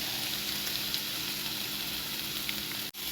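Olive oil sizzles steadily in a hot pan at a home dinner cook, a bright continuous frying hiss close up with faint crackles, cutting briefly near the end as the pan is moved.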